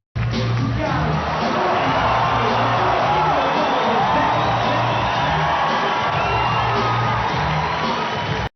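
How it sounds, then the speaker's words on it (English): A large crowd at a bodybuilding show cheers and whoops loudly and continuously during a posing routine, with shouts and applause filling the space the whole time. "reaction to Bev Francis in the 1991 Olympia, her routine was met with some intense cheering and applause"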